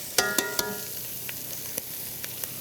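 Brown sugar is stirred into a sizzling pot for braised oxtail, with a few sharp utensil clinks against the pot at the start and then sparse taps over a soft, steady sizzle.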